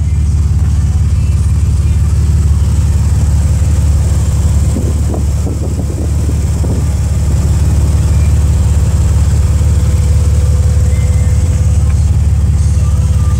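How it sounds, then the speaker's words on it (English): A 2006 Jeep Wrangler engine idles with a steady, low rumble that holds evenly from start to finish, close to the vehicle, with a faint voice briefly in the middle. "you wanted a video showing the engine running on"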